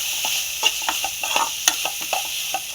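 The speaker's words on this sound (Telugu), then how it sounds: "కారం వేసి బాగా కలుపుకోవాలి." Chili powder being stirred into tomato paste frying in a pan, soft sizzling under quick scrapes and taps of a spoon against the pan, close and continuous.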